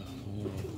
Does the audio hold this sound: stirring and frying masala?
no